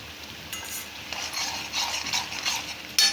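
Masala paste with turmeric being stirred as it roasts in oil, a steady sizzle with soft scraping strokes throughout and a sharper clink near the end, with no talking.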